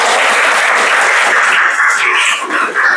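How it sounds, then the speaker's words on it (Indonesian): Students in a classroom clap together in a loud, dense burst of applause lasting a few seconds, slightly uneven as it begins to taper. "Tepuk tangan untuk kita semua"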